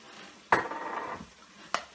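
Red chili powder being stirred into curry in a pan, heard as a sharp metal clink, a brief rush of scraping, then a second clink, close and fairly quiet.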